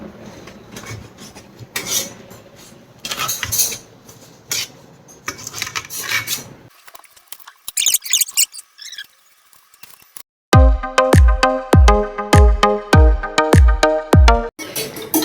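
Knife chopping onion and cabbage on a cutting board, first in uneven scraping cuts, then a pause, then a quick run of sharp, evenly spaced chops close up.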